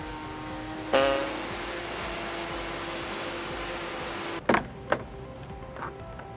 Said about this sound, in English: I'll be using an air saw to cut fascia here